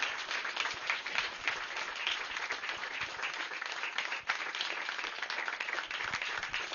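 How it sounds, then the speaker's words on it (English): Steady audience applause at a meditation event following a music performance, dense even clapping from a crowd throughout, with no talking. "Let's give a huge round of applause for their wonderful artwork"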